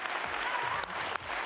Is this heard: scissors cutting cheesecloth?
no